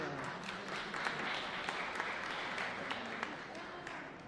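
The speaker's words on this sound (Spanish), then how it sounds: "el aplauso para todos ustedes" Steady applause from a church congregation during Mass, a dense wash of clapping that holds evenly for several seconds with no voices standing out.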